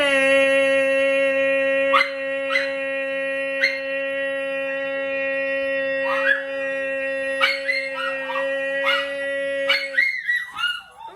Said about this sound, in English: And the little doggies, they come running to me now.